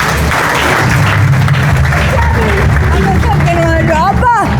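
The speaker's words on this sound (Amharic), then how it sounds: "ለእግዚአብሔር ክብር አጨብጭቡለት" A church congregation breaks into sustained applause, dense clapping filling the room near and loud, mixed with crowd murmur and a voice speaking over it toward the end.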